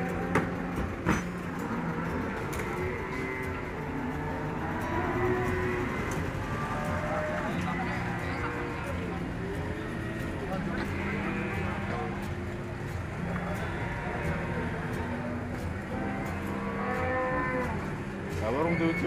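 Jumbo Simmental cattle lowing repeatedly at a busy livestock market before Eid, with deep moos overlapping across a steady background murmur and occasional voices.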